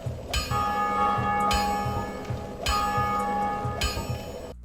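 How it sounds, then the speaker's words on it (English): A large bell tolls in the Dark Souls video game, three resonant strikes at an even, slow rhythm, each ringing out with a long shimmering decay, loud and clear with no voices. "The bell distinctly rings, and in this game you can always hear someone ringing that bell."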